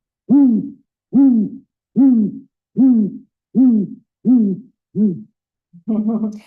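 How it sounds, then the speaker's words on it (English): Great gray owl hooting in dense forest: a series of seven deep, evenly spaced hoots, loud and close, followed by a rougher, lower call. "the great gray owls, you'll find them in our state, in the Klamath, over in the Cascades and the Blue Mountains"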